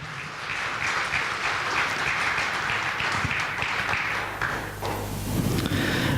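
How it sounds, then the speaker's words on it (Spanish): A church congregation at a Sunday service claps in a big round of applause, steady dense clapping with a few thumps and taps, joined near the end by a low sustained tone. "denle un aplauso grande al único, al Rey de Reyes, al Señor de Señores."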